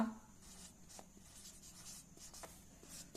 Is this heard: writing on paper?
yes